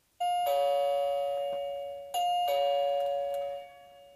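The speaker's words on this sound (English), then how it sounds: "so you know that if the doorbell's being rung" A HeimVision smart video doorbell chime sounds twice, each a clear two-tone ding-dong ringing out and fading, heard close in an otherwise quiet room.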